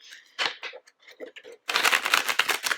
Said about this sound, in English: We'll give her a little shuffle.